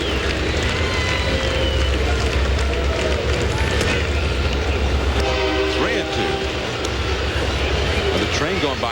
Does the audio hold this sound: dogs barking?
no